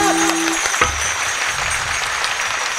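Hand clapping from a crowd gathered for a devotional kirtan at a Shiva temple, a dense steady patter filling the space at moderate loudness with no voices over it.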